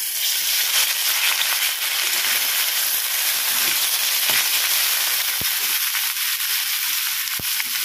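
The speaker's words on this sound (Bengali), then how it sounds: "তো তেলটা আমার গরম হয়ে গেছে, এবারের মধ্যে আমি ম্যারিনেট করা চিকেনটাকে দিয়ে দেব।" Marinated chicken sizzles and fries steadily in hot oil over a lowered gas flame, a loud continuous crackling hiss with a few sharper pops near the end, and no voices.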